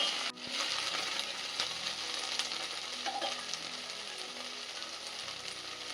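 Okra fries uncovered in oil in an open pan, giving a steady close sizzle, with light scraping and clinking as it is stirred throughout.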